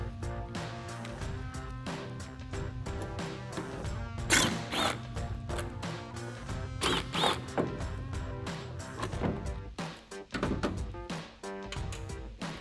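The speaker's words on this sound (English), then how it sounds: "we're gonna grab a T15 Torx socket or Torx bit, and we're gonna remove the 2 bolts on the inside of the taillight" A ratchet fitted with a T15 Torx socket works loose the two inner bolts of a 2014-2018 Silverado 1500 taillight, giving close metallic clicking and clattering runs with occasional sharper knocks throughout, no one talking.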